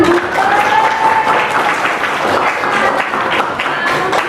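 A class of students in a history lesson applauds, with brisk, steady clapping close by for a few seconds and a faint voice under the clapping near the start.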